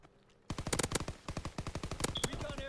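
Rapid automatic gunfire in a WW2 video game, a loud close burst of evenly spaced shots that starts abruptly after a quiet moment and keeps going for over two seconds.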